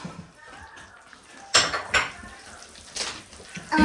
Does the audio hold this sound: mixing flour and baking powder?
yes